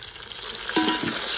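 Onions and tomatoes fry in oil in a pot, a close sizzling hiss with a few scraping stirs toward the middle, no voices.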